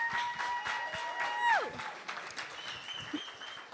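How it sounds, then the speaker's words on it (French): A crowd at a French evening event applauds in a brisk burst of clapping, with a bright tone sliding sharply downward partway through and the clapping thinning toward the end. "Une bonne main d'applaudissements."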